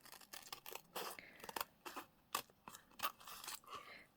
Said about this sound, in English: So now I'm going to cut around this and just cut this off